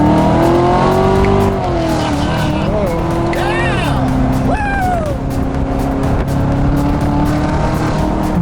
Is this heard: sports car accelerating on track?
yes